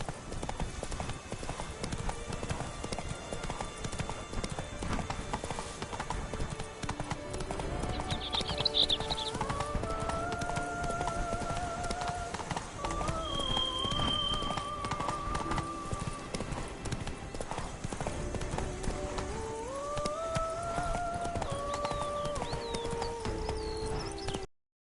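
Roach, Geralt's horse in The Witcher 3: Wild Hunt, gallops with a steady, continuous clip-clop of hooves, close and clear throughout, with faint birdsong and ambient tones behind.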